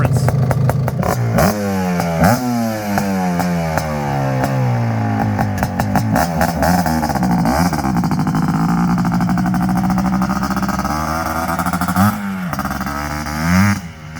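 Suzuki Quadzilla LT500R ATV two-stroke engine, freshly rejetted with a 58 pilot and 172 main, revving hard and repeatedly nearby, rising and falling pitch with crackling throttle blips.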